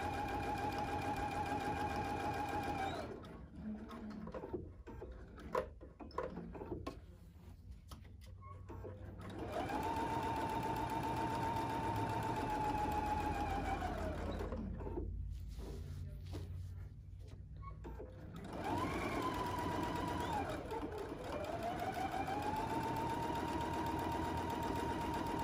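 Sewing machine stitching a double wine bag, its motor running in long steady bursts at close range, broken by quiet pauses between runs, with no talking.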